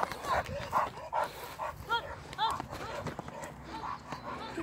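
A Kangal dog barks several times in short bursts amid outdoor noise, with people talking nearby and some rustling movement.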